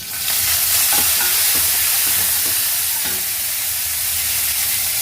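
Curry leaves sizzle and crackle in hot oil with a pinch of asafoetida, stirred in a pan for Tamil vathakuzhambu; a steady close frying hiss with scraping stir strokes throughout, no talking.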